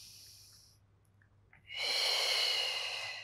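A deep, breathy exhale during a Pilates mat hamstring stretch, rushing in loud and close after a second of quiet and holding steady to the end.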